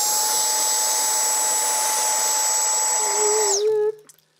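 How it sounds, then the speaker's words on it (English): A vacuum cleaner runs close by with a steady high whine and airy roar, then switches off and winds down quickly into quiet. "My vacuum cleaner."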